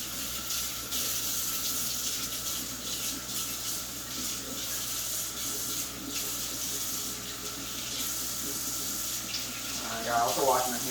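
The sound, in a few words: tap water running while washing a knife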